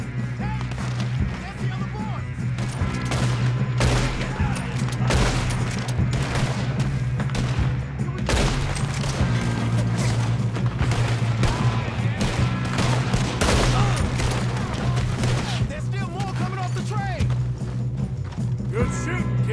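Repeated gunfire rings out in the Red Dead Redemption 2 video game, with dense, sharp shots in bursts over galloping horse hooves, and voices speak throughout.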